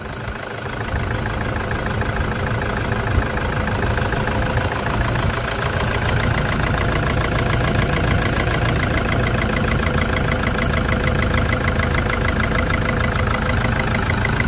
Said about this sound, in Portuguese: Percebeu o funcionamento irregular desse motor de Hilux?